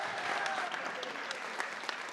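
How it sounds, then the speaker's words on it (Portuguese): A crowd at a year-end celebration applauds in a faint, steady patter of many hands, with a few louder claps standing out and faint voices underneath. "Aplauso para Lilo."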